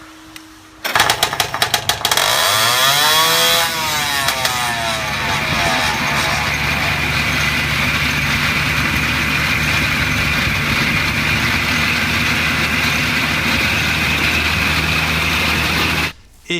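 A 48-cylinder custom motorcycle engine fires up after a brief starter burst, the revs sweeping up and settling into a steady, loud, rumbling idle that runs until it cuts off abruptly at the end.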